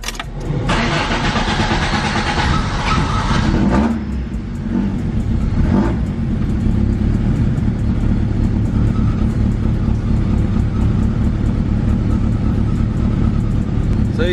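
A Toyota AE86 cranks and catches, then settles into a loud, steady engine run close by, with the coolant being bled after a radiator and fan shroud install. The idle stays unbroken to the end.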